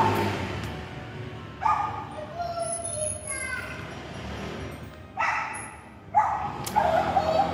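Dogs bark several times in short bursts at a moderate distance, spaced irregularly over a busy outdoor background with faint voices.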